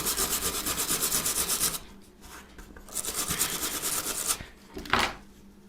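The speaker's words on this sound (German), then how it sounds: "Und dann nehme ich mir eine Drahtbürste und fahre nochmal schön drüber." A wire brush scrubs over the wooden walls of a small model hut for a gauge 0 model railway layout, in rhythmic close strokes, first a continuous run, then a pause and a few shorter passes.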